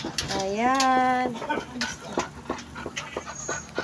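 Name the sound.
pet dog panting, greeting its owner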